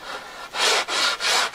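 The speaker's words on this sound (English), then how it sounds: "you are now using the rougher side of your sanding block" A sanding block, rough side down, rubs across a wooden guitar fretboard in three steady, rasping back-and-forth strokes, close and clear with no talking.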